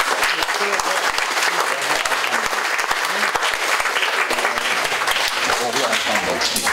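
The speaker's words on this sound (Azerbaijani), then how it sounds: "alqışlar" An audience at a memorial sporting event claps in sustained, dense applause throughout, loud and even with no break.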